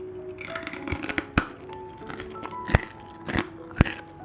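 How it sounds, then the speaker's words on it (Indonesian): Crispy roast pork belly is bitten into, giving several sharp, dry crunches and crackles spread unevenly over a few seconds, close up and fairly quiet. "Sekarang saya mau tes kriuk"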